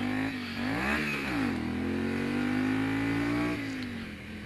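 A car revs roughly as its driver shifts gears badly, the engine pitch climbing, dropping and climbing again as it drones past at moderate distance.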